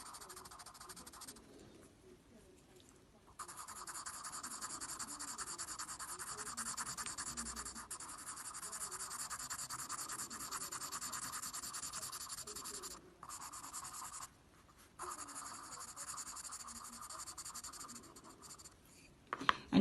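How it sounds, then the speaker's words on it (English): Steady scratchy rubbing of a coloured pencil shading in a cartoon Minion's dungarees on paper, close and continuous with a few brief pauses and no talk. "if you take your blue and colour in the dungarees"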